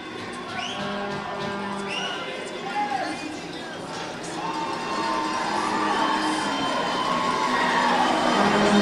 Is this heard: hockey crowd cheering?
yes